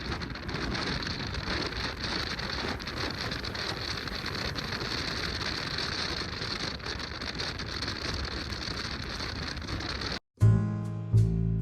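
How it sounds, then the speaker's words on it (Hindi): Steady, dense rain hiss during a monsoon motorcycle ride near the Anantapur toll plaza in India, continuous and fairly loud for about ten seconds before cutting off abruptly into a different, brief sound. "बाहर बारिश हो रही है"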